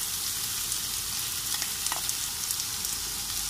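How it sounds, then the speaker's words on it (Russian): Onion, carrot and meat sizzle and fry in vegetable oil in a pan, a steady dense crackle with small popping spits throughout, close and continuous, no voices. "Высыпаю лук с морковью. И немножечко обжариваем."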